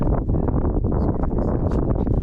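Steady wind buffets the microphone in a dense, low roar with brief gusts and faint rustling behind it, no voices.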